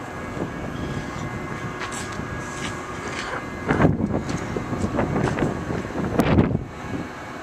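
A Metra commuter train idling at Geneva station gives off a steady heavy rumble, loud and near, with wind buffeting the microphone and a few swells of machinery noise.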